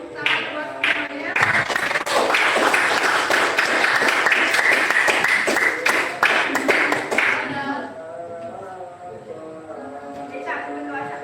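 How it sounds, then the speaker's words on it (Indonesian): A high school classroom of students claps hands together, several sharp individual claps at first building into about six seconds of close, lively applause, then fading out as a voice talks in the room. "Tepuk tangan buat semuanya."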